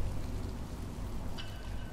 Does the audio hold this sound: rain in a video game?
yes